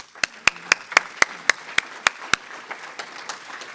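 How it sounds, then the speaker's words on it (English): A small audience at a community literacy celebration claps in a quick, even rhythm for about two seconds, then the clapping thins and fades out. "A round of applause for you all."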